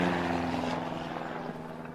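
A propeller airplane passes close by, a droning engine roar with a steady tonal hum that slowly fades over a couple of seconds, with no voices.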